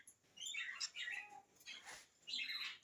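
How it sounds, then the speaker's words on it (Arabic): A male budgerigar kept as a pet bird chirps in quick, bright warbling bursts with short pauses between, close by and fairly soft, with no voices. "وهذا طائر آخر من البادجي كذلك، لكنه ذكر."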